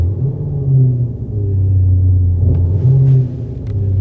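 Deep, loud exhaust-like rumble from a speaker mounted under a 2021 Skoda Octavia RS, swelling up and dropping back in repeated revs, close by and with no talking.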